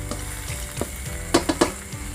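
Squid and red curry paste stir-fried in a pan with yardlong beans, giving a steady sizzle broken by several sharp scraping stirs of the spatula, close and fairly loud, with no voices.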